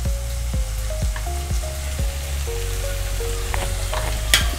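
Spice paste with turmeric fries in a pan for bread patty filling, a steady close sizzle with occasional stirring taps and a low background hum.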